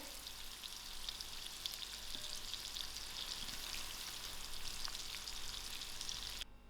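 Prawns bubble and spit in hot oil with a steady, dense sizzle that holds for several seconds before cutting off at the end, with no voices over it.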